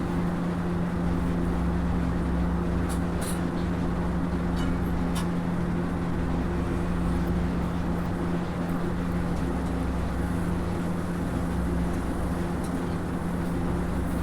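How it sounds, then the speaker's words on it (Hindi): An air cooler runs steadily in a home kitchen, a constant loud whooshing fan noise with a low hum beneath it, unchanging throughout with a few faint clicks on top. "आपको है ना बैकग्राउंड में थोड़ी कूलर की आवाज़ आ रही होगी"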